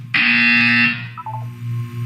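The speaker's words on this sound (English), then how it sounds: "When you hear the buzzer, look up at the ceiling." A single loud, harsh electronic buzzer in Portal 2 sounds for nearly a second, then cuts off, followed by soft low background tones.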